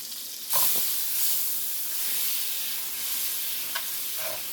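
Garlic sautéing in butter and olive oil sizzles steadily and close, a continuous bright hiss with a few soft stirring knocks and no talking.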